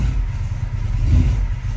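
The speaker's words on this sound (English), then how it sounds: "I don't know if you guys can hear that, but it's kind of struggling on idle" Honda Civic engine struggling at idle, a steady low rumble with slight uneven wavering, close and continuous.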